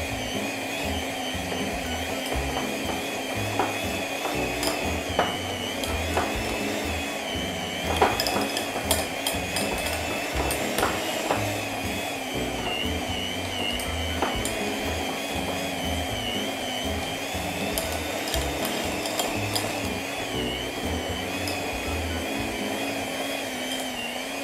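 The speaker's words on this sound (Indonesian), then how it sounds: "Jadi dalam menggunakan mixer ini jangan langsung diseret atau digeret ya, tapi cukup naik turun naik turun naik turun." An electric hand mixer kneads potato donut dough, its motor whining continuously and straining as it is moved up and down, with clattering knocks against the bowl throughout, close and steady.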